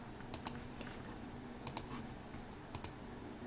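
Short bursts of typing on a computer keyboard, three quick clusters of crisp clicks spaced about a second apart, fairly faint and close against a quiet room hum with no talking.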